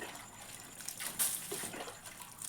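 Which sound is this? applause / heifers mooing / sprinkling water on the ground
sprinkling water on the ground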